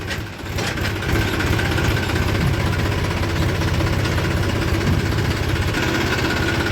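A tractor engine runs steadily while reversing on a sugarcane farm, giving a close, continuous low rumble and vibrating drone with no talk.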